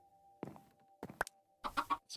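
Chickens in Minecraft give several short, clipped clucks in uneven bursts against an otherwise quiet game background. Each sound is brief and close, separated by pauses, with a faint steady tone underneath.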